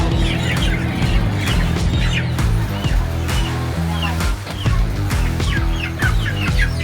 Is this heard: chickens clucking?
yes